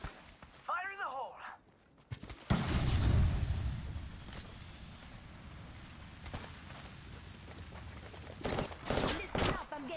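Game gunfire and explosive blasts from a late-night shooter session, a burst of loud shots and booms arriving after a brief quiet with a voice earlier, then more sharp reports near the end.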